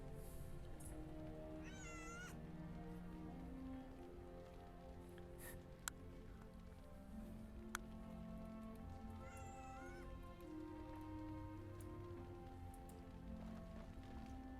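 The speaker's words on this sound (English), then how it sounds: "Meow." A cat meows twice, faint and a few seconds apart, each call a drawn-out rising and falling cry over a steady low background of game music and room hum.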